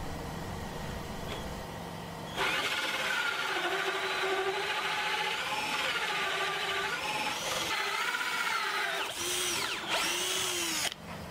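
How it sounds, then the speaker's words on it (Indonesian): A power drill whines and grinds as a hole saw cuts, pitch shifting under load, with brief pauses and restarts near the end. "Kemudian kita bor."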